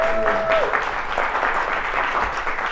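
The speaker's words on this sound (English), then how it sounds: "can we give a round of applause to everybody who made this happen?" Steady audience applause at a live podcast show in Chicago, many hands clapping together at close range, with a brief tonal sound at the start and scattered cheers mixed into the clapping.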